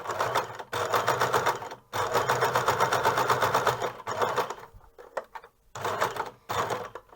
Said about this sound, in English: I can continue my bias tape here, pushing it together and sewing along it